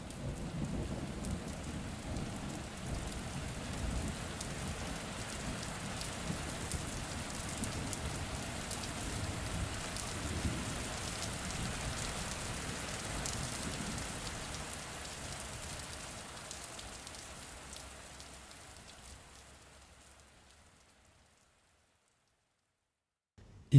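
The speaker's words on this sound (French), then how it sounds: "Une averse intense mais courte marqua la fin de l'offensive. L'orage s'éloigna." A short, intense rain shower hisses steadily on surfaces, with distant thunder rumbling low underneath, then the downpour fades away over the last few seconds into near silence.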